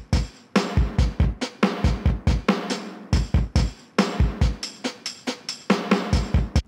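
A drum beat of punchy kick and snare with tambourine and pedal hi-hat ticking in between, a steady loud groove with no voices.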